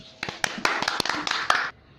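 A handful of sharp hand claps at an Odia comedy skit, spaced irregularly and landing under a loud, lively voice that talks or chants the whole time.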